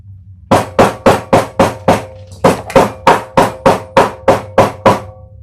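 Steady hammering, about fifteen loud, sharp blows in an even rhythm with a brief pause midway, close by and alone over a low hum.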